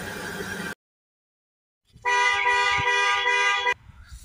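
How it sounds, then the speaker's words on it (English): A loud electronic alarm blares steadily for a couple of seconds after a brief pause, a harsh tonal honk with strong harmonics, then cuts off. "we've got a quite an, an, an annoying alarm going off over there"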